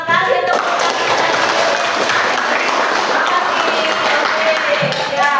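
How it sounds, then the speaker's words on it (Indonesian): An audience at a school teacher-training session at SMKS PGRI Wanaraja claps together, a dense, steady wash of applause that stays loud and even for several seconds before fading at the end. "Kasih tepuk tangan"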